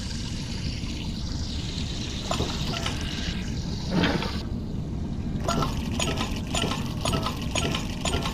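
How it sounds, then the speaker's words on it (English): Water drains and trickles from an escape pod in the VR game I Expect You To Die, a steady liquid wash with faint splashes and glassy clinks, rising briefly around the middle, with no voices. "Escape pod drained."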